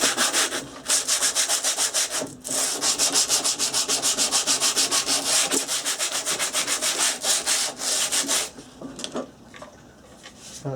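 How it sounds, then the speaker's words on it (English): A wooden base piece lightly sanded by hand, close rhythmic rasping strokes back and forth for about eight seconds, then a few slower scrapes as it tails off. "Give that a light sanding over."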